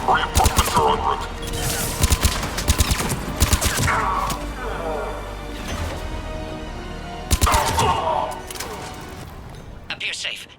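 Bursts of gunfire crack through a firefight in Mass Effect 3, loud clustered volleys separated by pauses, with a radio-style voice talking over the action.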